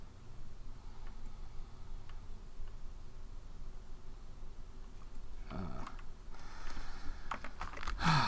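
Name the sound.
typing on a loud touchscreen keyboard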